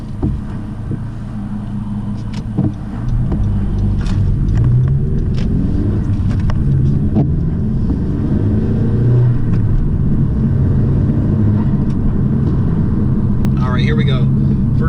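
A 2017 Honda Civic 1.5T with a short shifter and solid base bushings drives at steady speed, a continuous low engine and road rumble with brief shifts between gears, under faint background sounds.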